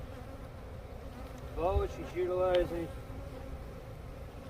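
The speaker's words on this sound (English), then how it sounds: "What we're doing is we're shaking the bees off a little bit." Honey bees buzz as they are shaken off a hive frame, a constant low hum beneath a voice speaking briefly.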